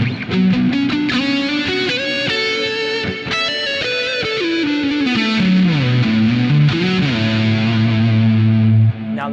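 An electric guitar plays through effects at a low-gain setting, sustained chords and bends ringing loud and close, with a slightly driven, chorused tone and no talking.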